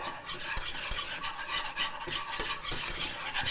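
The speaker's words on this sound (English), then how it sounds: "I'm going to keep whisking" A whisk works milk into a mac and cheese sauce in a pot, a busy rhythmic scraping and clicking of wire against metal under a soft sizzle, close and continuous without speech.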